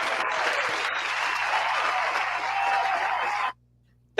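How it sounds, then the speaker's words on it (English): A crowd claps loudly and steadily for several seconds, then the applause cuts off abruptly into silence. "let's give Clyde a big round of applause for his big promotion"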